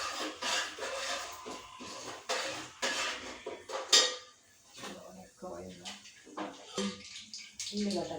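Ginger, green chillies and onions go into a pan in a home kitchen, giving clattering pan and utensil knocks and scraping with irregular bursts of activity, while a voice talks through much of it.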